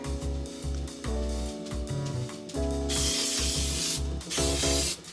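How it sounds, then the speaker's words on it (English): An aerosol baking spray coats cake pans over a sink in one long hissing burst followed by a shorter spray, with music playing in the background. "let's prep them with my baking spray."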